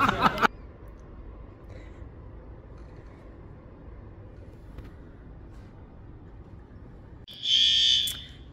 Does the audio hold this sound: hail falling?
no